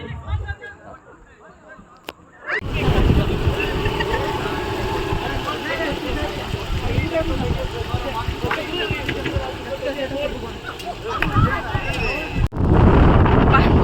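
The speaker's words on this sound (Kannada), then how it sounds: "ಎಷ್ಟೊಂದು ಗಾಳಿ ಬೀಸ್ತಾ ಇದೆ ಮಳೆ ಬರುತ್ತೆ ಅನಿಸುತ್ತೆ" Strong wind roars across an outdoor spot in the evening as rain threatens, a loud continuous buffeting rumble that starts abruptly and runs to the end, with faint voices mixed in.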